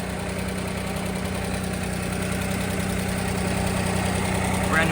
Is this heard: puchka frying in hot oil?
no